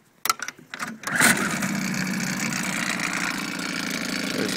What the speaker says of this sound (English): There's the boat running.